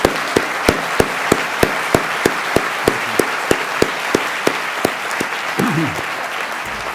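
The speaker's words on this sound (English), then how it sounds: "Will you please stand so we can give them an applause for all that they do for" Audience applause at a university State of the University address rings out in crisp, evenly spaced claps, like a few people clapping in a steady rhythm close by, with a brief murmur of talk near the end.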